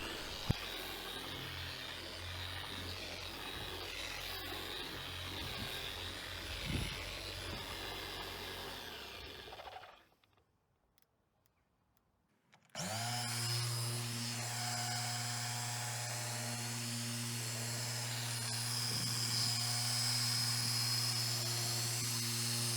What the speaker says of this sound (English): a few little drops on the polishing pad, spread out our work area, then we're going to start finishing the panel